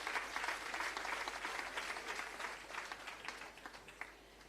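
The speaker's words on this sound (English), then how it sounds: "Give him a round of applause," Audience applause at a civil service long service awards ceremony, a moderately distant crowd clapping steadily, with individual claps standing out as it thins toward the end.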